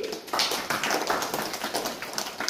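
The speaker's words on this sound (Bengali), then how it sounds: "জুড়ে হাততালি।" Applause at a school enrollment drive ceremony in a hall, a crowd clapping steadily and fairly close for a couple of seconds, even and unbroken.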